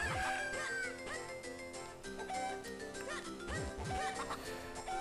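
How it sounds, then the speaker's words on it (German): A golden chicken clucks and crows in Zelda: The Minish Cap, its short bird calls mixed into steady, busy game music that runs throughout at a fairly loud level. "Goldenes Huhn, rein da."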